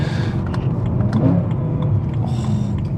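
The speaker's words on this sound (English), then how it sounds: "those downshifts" A BMW E92 M3's engine runs with quick bursts and crackles on downshifts between gear changes, close and fairly loud, with a whine in the background.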